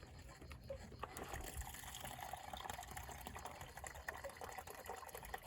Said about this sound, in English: I have now the option to fill up our built-in water tank completely